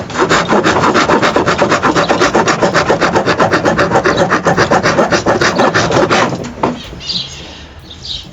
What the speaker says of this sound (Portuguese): a grosa é outra forma de você moldar a madeira